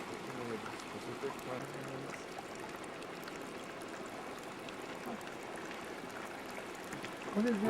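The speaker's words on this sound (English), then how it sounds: "Look at this little trickling creek." A small trickling creek on a geyser field in Yellowstone runs with a quiet, continuous babble under faint background sound, with a brief louder rustle near the end.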